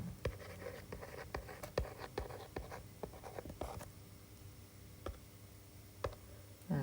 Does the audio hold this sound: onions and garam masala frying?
no